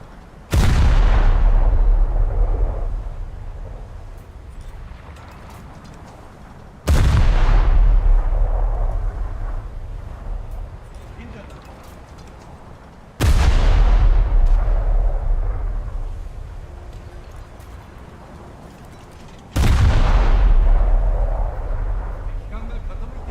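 Heavy naval guns in a warship video game fire four separate booming salvos at roughly six-second intervals, each a loud deep blast trailing off into a long rumbling decay.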